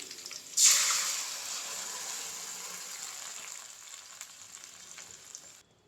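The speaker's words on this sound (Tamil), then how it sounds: "வெங்காயம் இந்த அளவுக்கு வதங்கினதுக்கப்புறமா நம்ம கடைஞ்சி வச்ச பருப்பு நான் சேர்த்திடுறேன்." Onions frying in a pan give a sudden loud sizzle as mashed lentils are tipped in, then the hiss settles into a steadier, gradually fading crackle; no one speaks.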